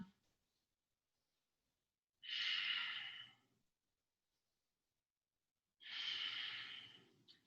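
Slow yoga breathing, two long, soft breaths a few seconds apart, each a drawn-out airy exhale from close by, with silence between them.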